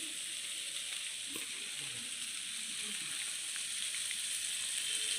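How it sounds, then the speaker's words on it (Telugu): Halved boiled eggs hit a hot oiled pan for a chapati roll, setting off a steady, bright sizzle that holds evenly throughout with no talking. "ఎగ్స్ వేస్తున్నానండి అందులో ఉడకబెట్టినవి."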